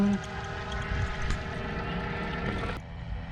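Paramotor engine running in flight, a steady droning hum with wind noise that cuts off sharply near the end, with a voice speaking over it.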